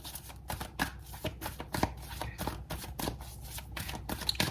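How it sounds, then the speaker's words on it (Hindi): Tarot cards from a Wisdom Oracle deck being shuffled and drawn, a steady run of close, crisp papery flicks and riffles with no talking. "विजडम ऑरिकल डेक से सबसे पहले मैं निकाल रही हूँ"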